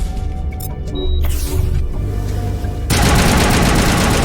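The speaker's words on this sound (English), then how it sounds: "Got some defense turrets here." Defense turrets open fire in the Mass Effect video game, a dense burst of rapid automatic gunfire that swells to a loud, continuous barrage over the last second or so.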